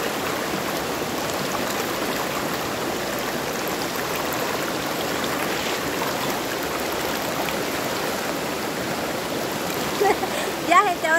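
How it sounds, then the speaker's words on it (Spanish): Steady rushing of river water flowing over rocks, a continuous broadband wash close by, with a few brighter splashes near the end. "les voy a dejar que escuchen un ratito el sonidito del agua"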